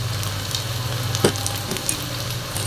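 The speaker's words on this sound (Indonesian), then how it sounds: "Kita goreng dengan api sedang ya teman-teman, jangan terlalu besar." Food frying in oil over medium heat, a steady close sizzle with a few sharper crackles and pops and a low hum underneath, with no talking.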